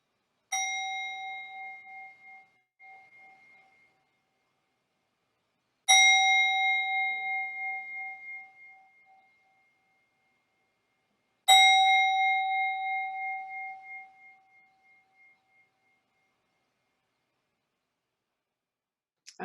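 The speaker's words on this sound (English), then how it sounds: "ring the bells that open our service" Church bells rung to open a Sunday service at a desert spiritual center: three separate clear, bright strikes, each ringing out and slowly decaying over several seconds, spaced evenly apart with silence between.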